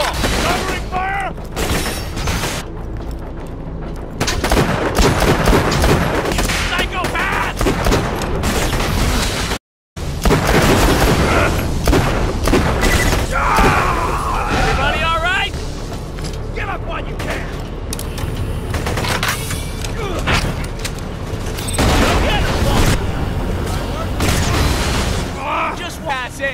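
Sustained covering gunfire and booming blasts from a firefight in the shooter game Borderlands: The Pre-Sequel, loud and dense nearly throughout, with rapid bursts and explosions stacked under voices talking over the action.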